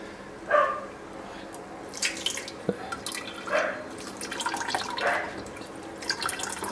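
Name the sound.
rinsing brewing grains under hot tap water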